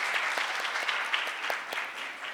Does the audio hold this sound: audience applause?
yes